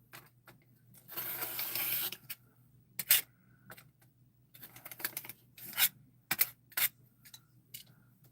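Fabric for an arrowhead quilt block is trimmed by hand, with a burst of rubbing and cutting followed by scattered short snips and rustles in a quiet room.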